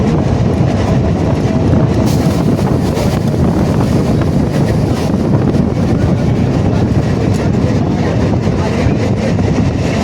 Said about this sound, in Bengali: ট্রেনে তো উঠেছি, দমদম পার হয়েছে